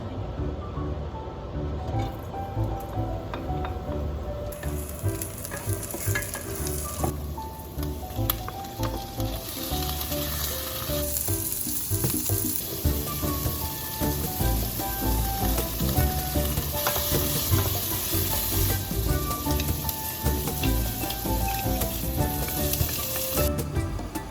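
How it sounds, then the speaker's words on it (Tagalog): Pechay greens sautéing in a pan at home, giving a loud, continuous close sizzle and frying crackle with occasional stirring scrapes over the full stretch. "almost din na yung aking ginisang petchay"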